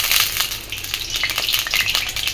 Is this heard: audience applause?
no